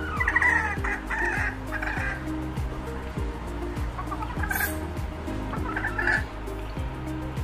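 Polish chickens, a fancy ornamental breed at a poultry show, cluck and call repeatedly over a steady low rumble, with sharper bird calls rising at several points.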